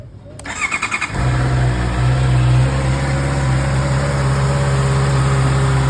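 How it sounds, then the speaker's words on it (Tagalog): A 2024 Honda CB650R motorcycle with its stock exhaust: the starter cranks in quick pulses for about a second, then the engine catches and settles into a loud, steady, close idle that holds to the end. "huling sound check natin guys ng stock pipe"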